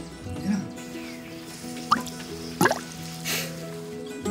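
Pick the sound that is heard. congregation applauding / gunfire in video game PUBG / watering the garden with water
watering the garden with water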